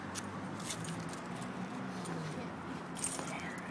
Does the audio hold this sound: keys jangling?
yes